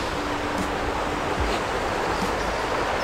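A river flows steadily nearby, a continuous broadband rush of water with no pauses, fairly loud and unbroken throughout.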